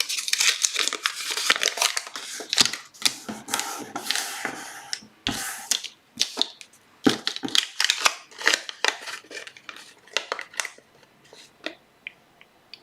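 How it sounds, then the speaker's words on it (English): Paper is crumpled by hand during a Halloween craft class, giving continuous close crinkling and crackling bursts with short pauses, and no talk. "So if you, yeah, just crumple it up a little bit."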